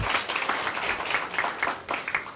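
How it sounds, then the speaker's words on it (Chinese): Audience of members at an annual convention's morning training session clapping, a moderate, fairly steady patter of many hands that swells and dips slightly, heard alone without talk. "所以我们给这些睡不饱又很累的会员一个掌声好吗？"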